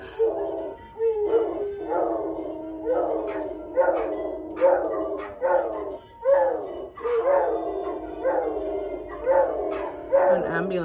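Dogs barking and howling at a passing ambulance, repeated close yelps and long wavering howls in bursts throughout, with no clear talk.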